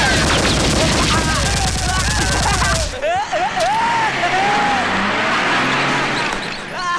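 Gunfire in a Hindi film scene: a dense, loud burst of rapid shots under music and shouting, then continued noisy action with whizzing sounds, all at high level throughout.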